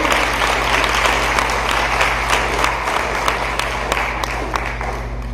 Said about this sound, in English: let's give a nice round of applause to our judge, Ms. Claudine Ewing.